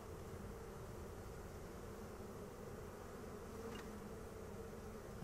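A handful of honey bees held in a backyard beekeeper's hand in December gives off a faint, steady, continuous buzz with no voices.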